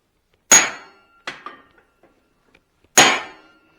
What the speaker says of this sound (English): so now we're going to go back to the drift, get it in there